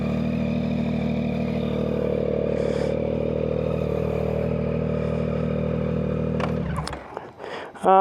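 A motorcycle engine idles steadily and loudly close by, then cuts out abruptly near the end, followed by a few clunks and clatters.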